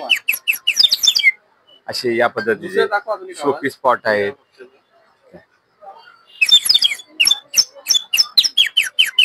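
A toy bird whistle sold among festival showpieces trills in quick, bright, chirping bursts that mimic various bird calls, loud and close, breaking off while a person talks and then chirping rapidly again.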